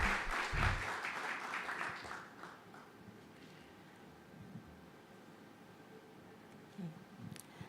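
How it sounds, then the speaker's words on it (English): An audience at an international public procurement conference applauds in a loud burst of clapping for the first two seconds, which quickly fades into a quiet, murmuring hall with a few scattered claps. "Please welcome her with a warm round of applause."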